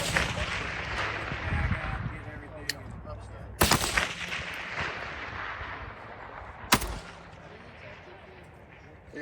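Rifle shots at a DMR shooting match, two loud sharp cracks several seconds apart with long echoing tails, alongside distant shooting and outdoor range noise, with voices faintly in the background.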